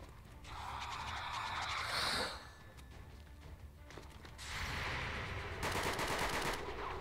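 Gunshots in the tactical strategy video game XCOM 2 with a modern-warfare mod, rattling bursts of automatic fire in a couple of sustained volleys at moderate distance over a low background of battle noise, no talking.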